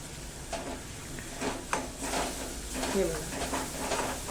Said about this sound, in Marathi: बारीक गॅसवर तेल सुटेपर्यंत हा मसाला आपण याच्यामध्ये परतून घेऊया